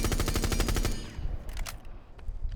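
A Rainbow Six Siege rifle fitted with a vertical grip and compensator fires a fast, steady automatic burst of close, loud shots. It cuts off after about a second, and scattered clinks and echoes follow.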